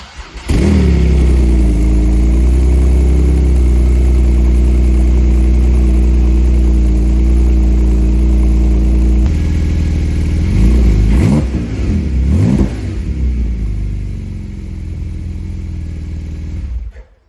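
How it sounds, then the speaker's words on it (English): A Porsche GT2 RS with a titanium exhaust cold-starts and settles into a loud, steady idle, then revs twice in quick blips before quieting down. "So that's a cold start up with like 2 little blips on that."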